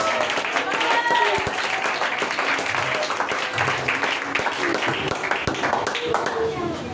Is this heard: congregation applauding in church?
yes